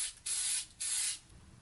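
CA glue accelerator sprays from an aerosol can in two short, close hissing bursts with a brief pause between them.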